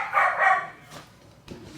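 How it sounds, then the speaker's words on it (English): Dogs bark faintly in the background, a short cluster of yips followed by a couple of weaker, more distant barks, with no talking. "Sorry if you can hear the dogs."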